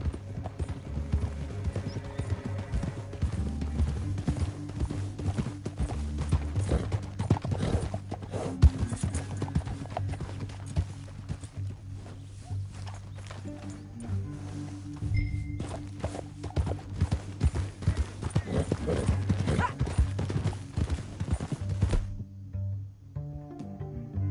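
Horse hooves clip-clop steadily and close in the video game Red Dead Redemption 2, a continuous rhythmic trot over a low rumbling background that carries on for most of the span before cutting out near the end.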